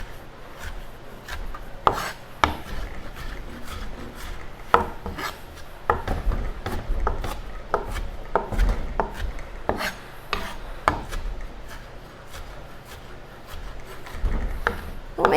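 Kitchen knife rocking through zucchini blossoms on a cutting board, a run of soft irregular taps and scraping cuts, close and fairly quiet with short pauses between strokes.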